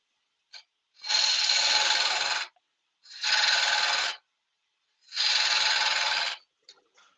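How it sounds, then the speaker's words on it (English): A woodturning gouge cuts a collar on a yew pot in three long rasping passes of about a second each, close and steady, with short quiet gaps between them. "So I bring the gouge round, bevel rubbing cup, and then I leave it proud"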